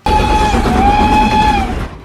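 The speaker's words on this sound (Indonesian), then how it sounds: "Saat menaiki kereta yang hendak berangkat" A departing train sounds a loud, sustained whistle-like tone over a low rumble for about two seconds before it fades.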